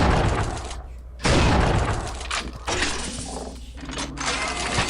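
Alt fire bolts of a shard weapon in Unreal II ricochet off walls, giving loud crackling bursts with sudden onsets and short gaps, repeating over several seconds.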